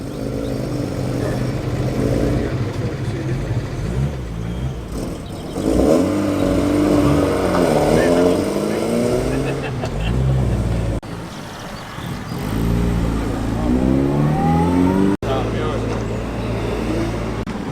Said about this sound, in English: Make that 2 Alfa Romeos departing.